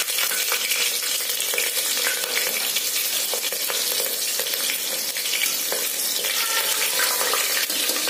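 Chopped green chillies hitting hot oil in a pressure cooker pan, a loud, steady, crackling sizzle that holds unbroken throughout with faint clinks of stirring, no voices.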